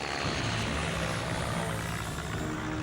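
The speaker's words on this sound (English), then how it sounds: "Hundreds of naval aircraft from a Japanese carrier force hit 8 American battleships while they sat at anchor." Drone of Japanese naval aircraft from a carrier force attacking battleships at anchor in Pearl Harbor on December 7, 1941, a steady dense engine roar that holds level throughout with no voices.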